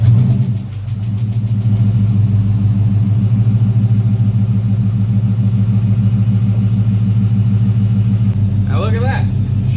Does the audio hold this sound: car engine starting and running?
yes